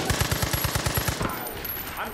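An MP40 submachine gun fires in Far Cry 5, a rapid, evenly spaced burst of about a dozen loud shots followed by a brief quieter tail.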